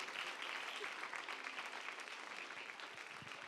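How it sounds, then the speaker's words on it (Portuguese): A church congregation at a Foursquare service applauds actors after a dramatic sketch, a steady wash of dense clapping held at even, fairly soft level throughout with no voices standing out. "Vamos aplaudir bem forte também os nossos atores"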